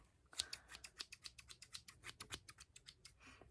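Daiso scissors snipping repeatedly at close range, a quick steady run of crisp metallic cuts, about a dozen in a row, with no voices.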